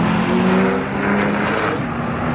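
A Porsche 911 Turbo S pulls away at a car meet with a loud, steady engine roar that holds for a couple of seconds and eases slightly as it moves off.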